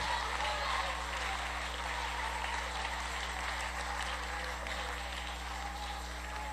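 A church congregation gives a long, steady wash of applause at a worship service, with faint voices mixed in over a low hum.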